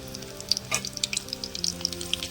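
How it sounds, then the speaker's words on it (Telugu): Garlic and cumin fry in hot oil as a tempering for moong dal with tomato, giving a continuous close sizzle with bright crackling pops and the odd stir, with no voices. "పోపు బాగా వేగాలండి"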